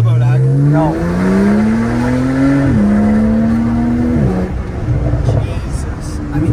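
A Porsche Turbo S with a decat exhaust accelerates hard, its loud engine note rising through several gear changes with brief dips between shifts, then easing off near the end while voices talk underneath.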